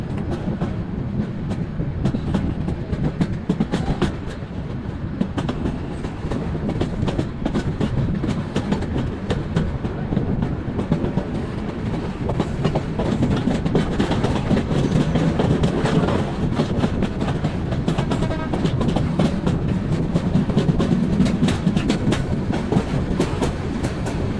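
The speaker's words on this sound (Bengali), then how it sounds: "সাতটা ছেচল্লিশ মিনিটে ট্রেন ছেড়ে গেল কমলাপুর রেলওয়ে স্টেশন" A passenger train from Dhaka to Chattogram runs steadily on the rails, a constant loud rumble with rhythmic clickety-clack from the wheels, heard from inside.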